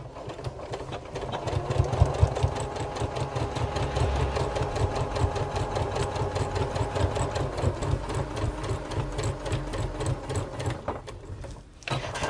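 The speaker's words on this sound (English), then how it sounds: "just sew down the two sides to where the bottom is of your actual outer pocket is" A sewing machine runs steadily, stitching down the two sides of a fabric tool wallet's outer pocket, with a fast even mechanical chatter that holds for most of the stretch and briefly dips near the end.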